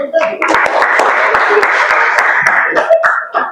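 A classroom audience claps after a group presentation, with scattered sharp claps over a dense wash of voices and light laughter throughout.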